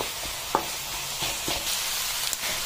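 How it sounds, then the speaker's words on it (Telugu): Onions and curry leaves fry in a pan with a steady, moderate sizzle, broken by a few sharp pops and scrapes of stirring, with no voices. "ఈ ఆనియన్స్ అనేది పచ్చివాసన పోయి బాగా సాఫ్ట్గా కుక్ అయ్యే వరకు దీన్ని మగ్గించుకోవాలి"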